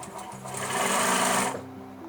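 Sewing machine stitching a French seam on a basic tote bag, a close, steady rapid mechanical whirring that builds for about a second and a half, then stops, with no talk.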